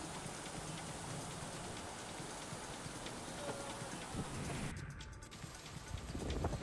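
Heavy monsoon rain pours steadily in the Tavandi ghat, a dense, even hiss of rain hitting surfaces with a rising rush toward the end.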